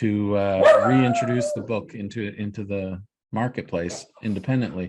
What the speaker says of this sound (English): that's my dog barking at a squirrel